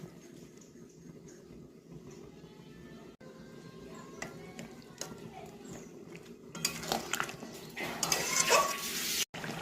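A lid goes onto a cooking pot of vegetables, hilsa fish and mustard for a Bengali ambal, with metallic clatter and clinks that grow louder toward the end over a low kitchen background.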